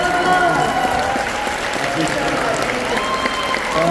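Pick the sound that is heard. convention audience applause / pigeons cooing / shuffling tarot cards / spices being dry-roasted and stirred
convention audience applause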